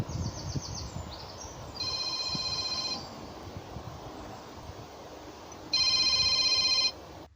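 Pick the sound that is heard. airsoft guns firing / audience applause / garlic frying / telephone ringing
telephone ringing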